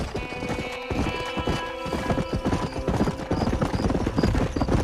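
Horse hooves clip-clopping at a gallop in Red Dead Redemption 2, a steady rapid rhythm under game music, with a brief whinny and a voice urging the animal on.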